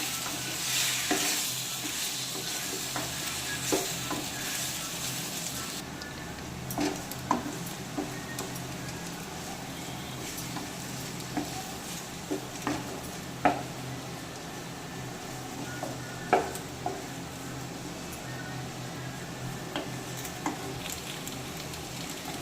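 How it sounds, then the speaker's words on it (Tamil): Boiled pasta is stirred in a frying pan under a soft steady sizzle, with intermittent clicks and taps of the utensil against the pan. "இப்போ இதை நல்லா கிளறி விட்டுக்கலாம்"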